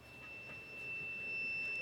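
A steady high-pitched continuity beep from a multimeter, holding one pure tone almost without a break, faint and alone over a low background hum.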